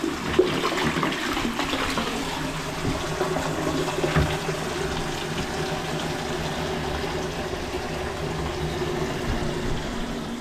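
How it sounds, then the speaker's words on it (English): A newly plumbed toilet flushes in a continuous rushing gush of water that holds steady for about ten seconds, close and fairly loud, with no voices. "We're good to go to give this a flush."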